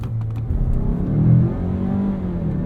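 A 2021 Mazda CX-5 engine revs in first gear, a brief rising mid-range growl that swells and then settles back to a steady drone, heard close up without any talking.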